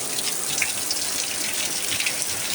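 Heavy rain falls on a farm in the Brazilian backcountry with water flowing and gushing, a dense, even hiss of drops and running water, fairly close and steady without any voices.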